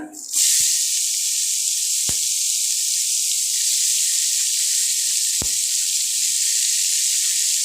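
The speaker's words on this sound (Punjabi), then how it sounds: "ਹੁਣ ਇਹਦੇ ਵਿੱਚ ਐਡ ਕਰਦੇ ਆਪਾਂ ਪਿਆਜ਼" Onions hitting hot oil with cumin in a pan burst into a loud, steady sizzling hiss that carries on unbroken, close and dominant, with a few faint knocks underneath.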